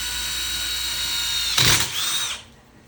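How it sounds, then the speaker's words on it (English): A power drill bores a hole while a swing arm is being installed, giving a steady high whine with a brief harsh burst near the end before the motor winds down and stops. "Slow and steady when it comes to drilling, so the bit doesn't heat up"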